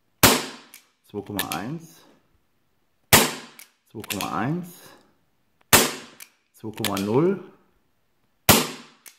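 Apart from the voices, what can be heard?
CO2 air pistol shots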